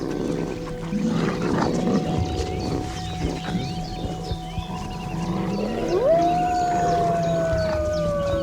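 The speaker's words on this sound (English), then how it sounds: "The pack maintains discipline by barking, growling, and howling, which reduce the need for open conflict." A wolf pack howls outdoors, with several long, rising and falling howls that overlap one another, including one clear, sustained howl near the end, all heard at middle distance over a low background rumble.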